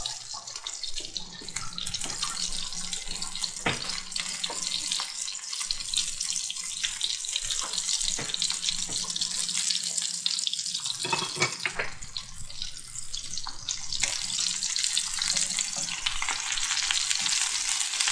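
Chicken sliders fry in a pan with a loud, steady sizzle and hiss that runs throughout, dotted with small pops and crackles.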